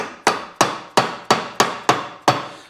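A hammer strikes an install tool to seat a trailer axle bearing race, giving seven sharp metallic taps at a steady, even pace, close and clear with no talking.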